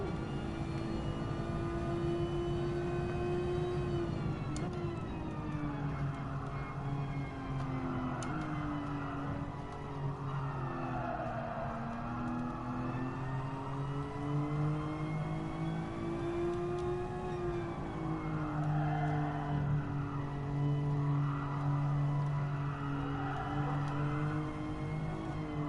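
A race car in a driving game, its engine droning steadily at fairly low volume with pitch rising and falling through corners, tyre noise faintly underneath, no talking.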